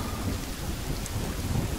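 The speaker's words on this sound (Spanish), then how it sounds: "Encima se pone a llover." Heavy rain with rolling thunder in the survival video game The Forest, a dense continuous downpour with a low rumbling roar throughout, no voices.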